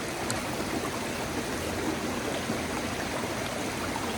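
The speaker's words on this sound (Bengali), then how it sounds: "মাউন্টেন ওয়াটার একদম ঝর্ণা থেকে নেমে আসছে" A clear mountain stream flows down from Aber Falls waterfall in North Wales, a constant close rushing and burbling of water with no voices.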